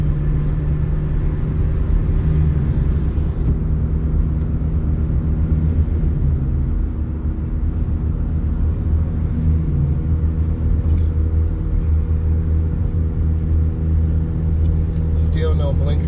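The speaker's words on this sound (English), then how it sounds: "This car is making a lot of noise." A noisy car on a road nearby drones loudly and constantly, a heavy low engine rumble heard from inside a moving vehicle, with some voice under the noise.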